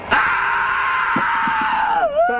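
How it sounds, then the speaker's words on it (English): A single loud, sustained scream held for about two seconds, close and harsh, bending downward in pitch at the end. "Scream."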